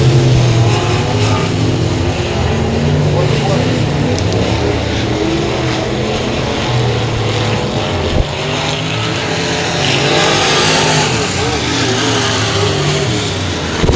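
IMCA Modified race cars at the Bryan Mize Memorial heats roar around a dirt track in a loud, continuous engine drone. The pitch shifts and swells as the cars pass, and no one is heard talking.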